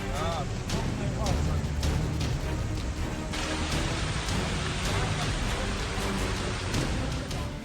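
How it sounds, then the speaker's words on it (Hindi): Heavy rain in a storm in Bucharest, a dense, loud, steady hiss of downpour with sharp cuts and bursts throughout, close and filling the scene. "बुखारेस्ट में बारिश के साथ ऐसा तूफान आया जिसने कई शहरों को अपनी जद में ले लिया।"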